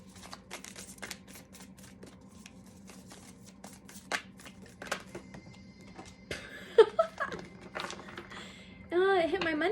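A tarot deck is shuffled by hand, giving repeated soft riffling and card flicks up close under a voice, with brief louder rustles near the end.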